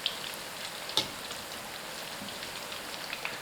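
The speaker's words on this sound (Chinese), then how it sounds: "大火再炸1分钟，这样能够让丸子的表面更加的酥脆" Meatballs deep-fry in oil over high heat with a dense, steady crackling sizzle and scattered sharper pops, close and continuous with no voices.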